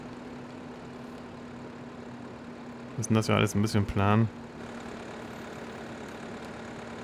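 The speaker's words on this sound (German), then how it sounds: "Und dann können wir mit dem Traktor hier düngen." A tractor idles with a steady low drone while fertilizing a field in Farming Simulator 15, with four-wheel drive engaged. Someone speaks briefly over the engine hum.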